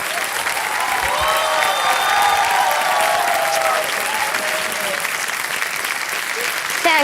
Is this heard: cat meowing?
no